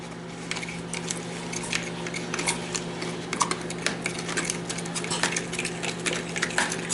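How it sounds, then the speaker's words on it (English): Boiled egg yolks mashed in a bowl for potato pancakes, a steady run of soft scraping and light clinking taps from a utensil against the dish, close and continuous with no talk. "I'm going to start to mash the yolks down"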